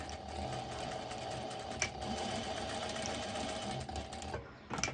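A sewing machine running a straight stitch over a swimsuit shoulder strap under an O-ring, a faint steady rapid mechanical whirring and ticking that carries on for several seconds, then stops abruptly with a couple of clicks.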